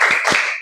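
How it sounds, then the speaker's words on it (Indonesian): A classroom of primary school pupils does a rhythmic cheer clap before a lesson, two sharp, loud claps close together over a bright room wash, with no talking. "Tepuk semangat."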